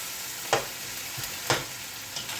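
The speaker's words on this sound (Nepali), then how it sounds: "टमाटर, मिक्स गर्दै फ्राई गर्दैछौँ।" Tomatoes stirred and fried in a pan with mint for chicken pulao: steady soft sizzle with a few sharp spoon scrapes spaced about a second apart, close up and without voices.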